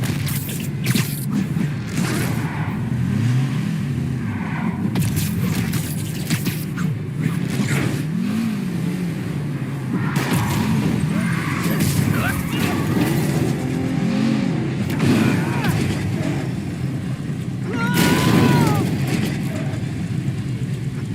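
Car in Spider-Man PS4 driving at speed with a sustained engine roar, revving swells and occasional tire squeals, loud and continuous over city game noise, with voices talking over it.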